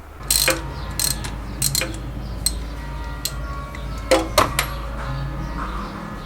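A ratchet clicks in short bursts while undoing the 19mm coolant block drain on a 1997-2001 Honda CR-V B20 engine, with several loud close pawl rattles separated by pauses and a steady low hum underneath.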